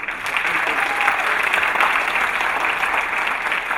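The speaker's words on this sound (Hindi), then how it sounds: "इसलिए एक बार तो फिर ताली बना दीजिए" A theatre audience applauds steadily after a play, a dense wash of clapping that stays even in loudness from start to finish.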